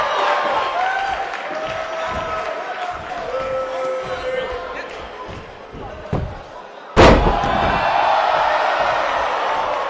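In a WWE 2K19 steel cage wrestling match, a body slams onto the ring with a sudden loud crash that rattles the ring, followed by crowd noise, while a commentator talks beforehand.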